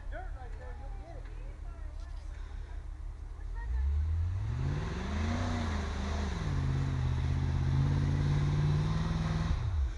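A vehicle stuck in dirt, its engine idling before surging into a loud, sustained rev that wavers and holds, close by, with voices talking over the start.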